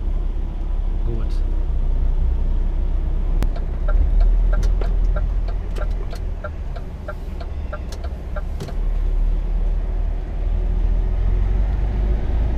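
A car driving through city traffic in Munich, with a steady low engine and road rumble throughout, clucking chicken-like sounds on top and people talking inside.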